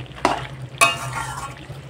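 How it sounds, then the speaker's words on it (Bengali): Stirring katla fish head curry in a pan, two sharp scraping stirs over a soft steady sizzle, close and fairly quiet. "তো ভালো করে একটু নেড়ে চেড়ে দেবো।"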